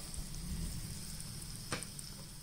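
Garlic, cumin seeds and curry leaves frying in a pan for a mango pickle, a faint, steady sizzle and crackle with one brief sharp tap partway through.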